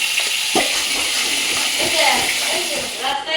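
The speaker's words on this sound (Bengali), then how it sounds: "মশলা ধোয়ার জলটা একবারে দিয়ে দেবো" Water used to wash spices poured into masala frying in oil in a home kitchen, giving a loud, sustained sizzling hiss with bubbling crackles, with a voice talking over it.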